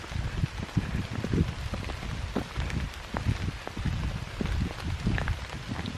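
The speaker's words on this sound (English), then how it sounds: "You can actually see the rain coming down." Rain falls outdoors at Devil's Punchbowl as a dense, steady patter of drops hitting nearby surfaces, continuous and fairly close, with no one speaking.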